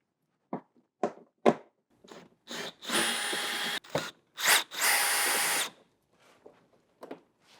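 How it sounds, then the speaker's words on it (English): Power tool driving out 8 mm bolts that hold a plastic piece to the fender liner on a BMW F32, heard as several short loud bursts of whirring interspersed with clicks and handling noises, close up. "next you're going to want to remove 2 more 8 millimeters, one right here and one right up here"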